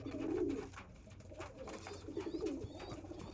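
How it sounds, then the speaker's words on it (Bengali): Andhra Lal Sira pigeons coo in soft, low throaty rolls, two clear bursts at the start and again midway, close by over a faint background hum in a loft. "আন্ধ্রার লাল সিরা পায়রা।"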